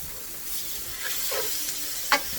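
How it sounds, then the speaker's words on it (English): Tricolor bell peppers and purple onion sauteing in a hot pan, a steady close sizzle with faint stirring and a single sharp utensil tap near the end, no voices. "So we want to saute these together."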